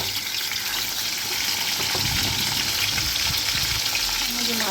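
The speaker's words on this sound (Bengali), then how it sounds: "ওইদিকে তেল গরম হয়ে গেছে, মাছটা দিয়ে দেবো" Fish sizzles and spatters in hot oil in a home kitchen, making a continuous close crackling hiss that stays loud and even throughout, with faint stirring underneath.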